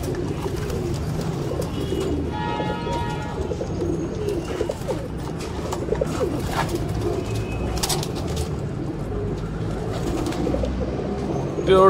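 Pigeons coo repeatedly in a bird enclosure, soft throaty calls rolling over one another close by, with occasional chirps from other birds in the background.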